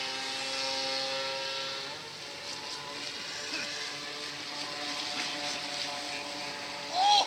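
Small radio-controlled fishing boat motor running on the water with a steady, fairly faint electric whine and harmonic hum, holding level throughout with a brief louder burst near the end.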